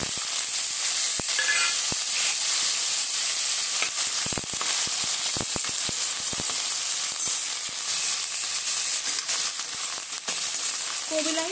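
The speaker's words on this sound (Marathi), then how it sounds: "आता आपण कोबी फ्राय करूया" Cabbage pieces fry in hot oil for aloo gobi with unpeeled potatoes, giving a steady close sizzle with sharp crackles and occasional stirring scrapes throughout.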